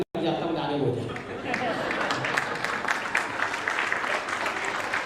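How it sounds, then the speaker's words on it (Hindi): Audience applause at a Hindi kavi sammelan poetry gathering, a dense sustained wash of many hands clapping that runs steadily for several seconds with faint crowd voices mixed in. "एक बार तालियां अपने लिए बजा रहे हैं।"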